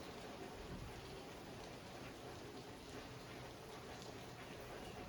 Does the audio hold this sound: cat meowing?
no